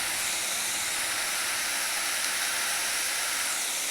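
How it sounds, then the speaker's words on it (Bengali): Steady hiss of spice paste frying in a hot pan, a continuous even sizzle with no breaks, moderately quiet and close, no voices over it. "এখন আমি একটু ভেজে নেব।"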